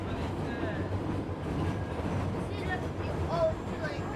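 Train rolling along rails near Bansko, Bulgaria, a steady close rumble with faint rhythmic wheel clatter and a brief squeal near the end, voices murmuring over it.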